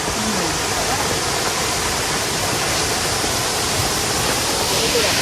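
Steady roaring rush of a waterfall in a canyon near Granada, Spain, a broad unbroken wash of falling water filling the scene at close range.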